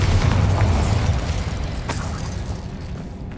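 A Bombarda blasting spell goes off in the Hogwarts Legacy video game, one deep, loud boom that rolls into a rumbling tail and fades over a few seconds, with a small crackle partway through.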